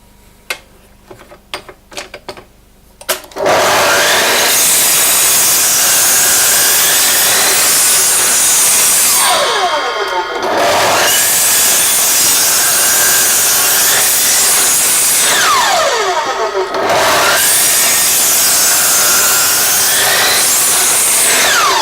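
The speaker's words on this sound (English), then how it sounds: "So what I'm going to do is cut some wood." Wood being cut with a power saw, a continuous loud, harsh whine after a few seconds of quieter handling knocks, with two brief dips where the blade eases off, close to the microphone.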